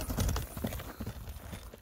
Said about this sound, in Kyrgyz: улакка дагы универсал ат экен.